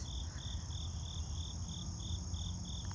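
Crickets chirp in a steady, regular rhythm, about three pulses per second, over a low rumbling background hum.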